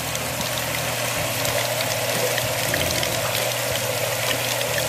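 Water runs steadily through a hose while a fish net for a guppy tank is rinsed, a continuous close rushing and gushing with a low pump-like hum beneath, with no talk.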